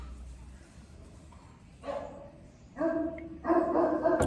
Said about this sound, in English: The dogs are going nuts at the house.